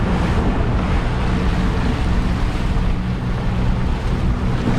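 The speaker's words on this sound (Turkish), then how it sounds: "Rüzgar olduğu için de durduğumuz yerde fena dalga yapıyor." Strong wind roars across the microphone on a boat moored in a cove while waves slosh and churn steadily, with no talking.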